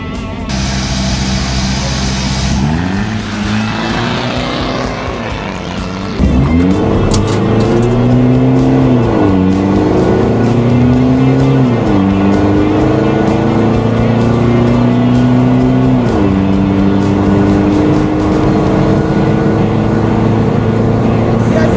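An Isuzu D-Max diesel with an all-wheel-drive 1KD engine idles loudly at a drag race, then launches and revs hard through several rising gear pulls. The engine stays close and roaring.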